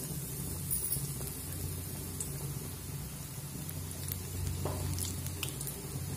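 Battered eggplant slices frying in hot oil on a medium flame, a faint steady sizzle with soft crackles and a few sharper pops, quiet and close with no talking.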